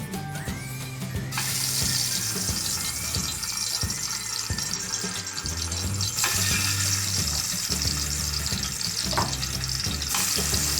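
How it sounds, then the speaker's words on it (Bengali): Marinated eggs fry in hot oil for an egg curry, with a loud, continuous sizzle and spatter that shifts in intensity as the eggs are moved about, close and without voices. "ডিমগুলোকে আমরা গরম তেলে হালকা ভেজে নেব"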